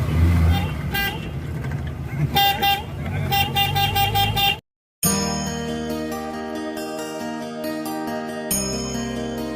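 Busy road traffic at dawn on the way to the Vaishno Devi yatra entry point, with car horns tooting repeatedly in short bursts over a steady engine rumble and a brief dropout midway.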